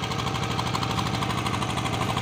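A Tobata micro tractor engine running steadily while driving a crop sprayer rig in a maize field, a rapid even knocking pulse throughout, close and loud, no speech.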